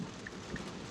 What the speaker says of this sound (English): The rain's pouring on here.